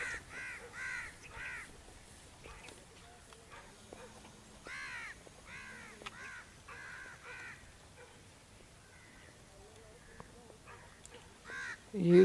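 Crows caw outdoors in a dove-hunting setting, repeated short harsh calls in bursts of three or four, moderately close, with quiet stretches between groups and no clear speech.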